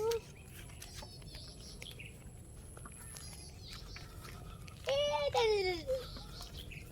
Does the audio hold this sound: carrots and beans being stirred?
no